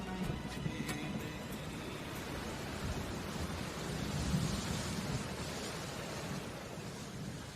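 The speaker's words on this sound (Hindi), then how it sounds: "बारिश की बूंदें खिड़की से टकराकर बार बार उसके चेहरे को छू रही थी" Raindrops hitting a window in a steady, even hiss of rainfall with a soft low rumble underneath, constant from start to finish.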